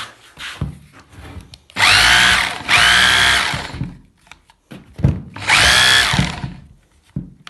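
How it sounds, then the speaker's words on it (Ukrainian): A Bosch rotary hammer drill is switched on in two bursts, a sustained loud whirring drone each time, with a brief pause between them and quieter handling noises around the runs. "такий перфоратор бошик у нас. Подивились, загуглили і вмикає"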